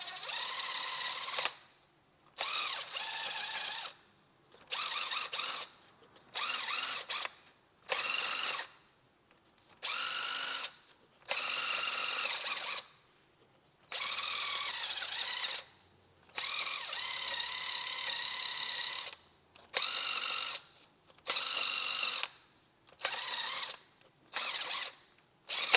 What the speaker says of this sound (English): So I got this little adapter. So you can use Scotch-Brite, a wired brush, just to clean this off.